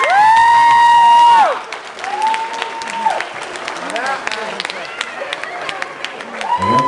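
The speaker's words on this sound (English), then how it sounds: "how about a nice big round of applause for our maid of honor" Wedding guests applaud the maid of honor in a steady, crowded round of clapping with some cheering and voices, while a sustained tonal sound rings out at the start and returns briefly at the end.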